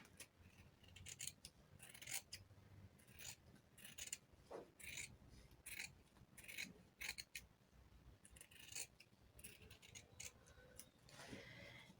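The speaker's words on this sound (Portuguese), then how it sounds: "É bem simples, já tá costurado, então eu só venho cortando, deixando uma margenzinha de contorno." Scissors cutting through sewn felt doll pieces, trimming a small margin around the stitching, heard as repeated close, crisp snipping and rasping strokes in an irregular rhythm, quiet and alone with no talk.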